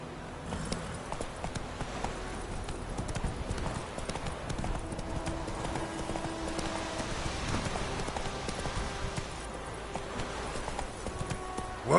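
In The Witcher 3: Wild Hunt, the horse Roach trots with a steady, close clip-clop of hooves that runs continuously, with faint game ambience and a little speech behind it.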